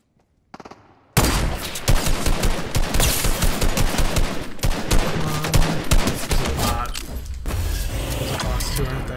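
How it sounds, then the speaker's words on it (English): Sustained Fortnite gunfire close by, a dense barrage of rapid shots and bursts that starts abruptly after a brief quiet moment and keeps going loud and continuous to the end. "Someone's shooting near me."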